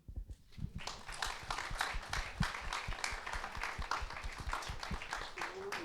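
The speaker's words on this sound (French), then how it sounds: "on peut les applaudir" Audience applause after a panel discussion at a film screening and debate on rewilding cities, with steady clapping from a moderate crowd throughout and a few voices murmuring underneath.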